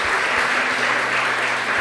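A church congregation applauds during a bishop's sermon, steady broadband clapping from many hands, close and continuous throughout the short stretch.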